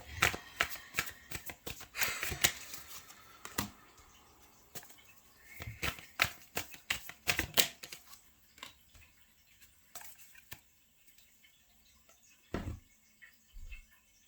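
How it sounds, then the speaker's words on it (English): Tarot cards are shuffled and pulled by hand in quick, papery riffles and flicks, soft and close, with irregular bursts and brief quiet gaps between them. "let me pull some more cards here."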